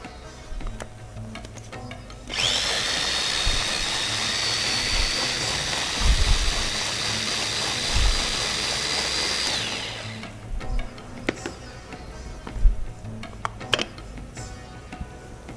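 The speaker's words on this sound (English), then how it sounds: "And now I'm going to puree the onion, the tomato, because these are coarse, they're chopped and already cooked." A blender purees cooked, coarsely chopped onion and tomato for a prawn curry, a loud steady high whine starting abruptly, running about eight seconds with low thumps, then cutting off into quieter kitchen background.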